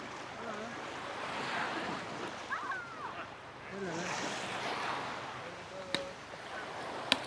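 Surf washes in continuously at Kalamaki beach on Zakynthos, Greece, a soft, steady rush of waves mixed with wind buffeting the microphone, with faint distant activity and two brief sharp clicks near the end.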